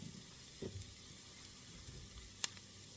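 Asparagus cooks in a pan with a soft, quiet sizzle, broken by a brief clatter of stirring and one sharp tick, with no talk.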